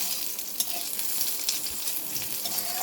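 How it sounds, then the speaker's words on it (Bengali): Fried eggplant, with a little salt, is stirred in hot oil, giving a continuous bright sizzle broken by soft scraping strokes of a spoon across the pan. "এবার একসাথে এটা ভালো করে তেলে নাড়াচাড়া করে নেব।"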